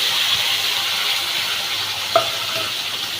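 Bay leaf, whole garam masala and ginger-garlic paste sizzle steadily in hot oil for a shrimp and pointed gourd curry, with a faint clink of stirring partway through.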